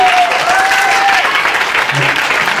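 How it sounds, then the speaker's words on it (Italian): Loud audience applause at a concert showcase in Turin, a dense, continuous wash of clapping from a crowd with a faint voice briefly audible beneath it. "Applauso, dai!"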